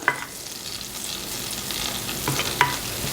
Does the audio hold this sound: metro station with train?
no